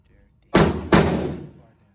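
Two loud gunshots at a shooting range, fired close in quick succession, each a sharp crack with a reverberant tail that dies away over about a second.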